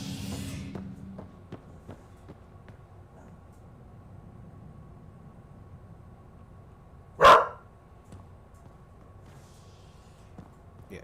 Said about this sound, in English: Lieutenant Ripley, you do not need to bark back at the Chihuahua.